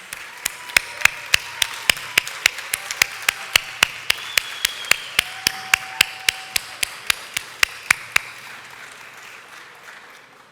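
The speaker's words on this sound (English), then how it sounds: "Please give them a round of applause." At an awards ceremony, sharp, distinct claps ring out one at a time in a slow, regular beat, like a single person or a small group clapping. They sound close and crisp, then stop well before the end, leaving quiet.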